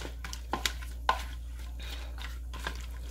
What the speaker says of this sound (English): So I just want to stir this up.